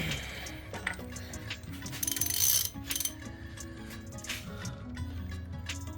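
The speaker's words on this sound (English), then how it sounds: "Now I just used my ratchet gun" A pneumatic ratchet gun works on an over-tightened bolt during a service of a 2009 VE Holden Commodore, giving rapid mechanical clicking and ratcheting bursts with a louder whir near the middle, close by in a workshop.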